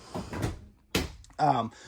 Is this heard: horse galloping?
no